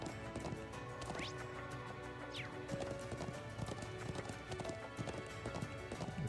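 Horse hooves clip-clop in quick, steady rhythm from a horse in the video game Trails of Cold Steel II, clear and continuous over game music, with a couple of whinnies.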